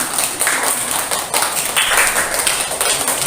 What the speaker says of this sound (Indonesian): Ya, berikan tepuk tangan kepada Mbak Tani.